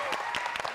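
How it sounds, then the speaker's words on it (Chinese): Children at a kids' dance show clap for themselves, a brief, quick patter of scattered hand claps under a faint background. "帮自己拍拍手。"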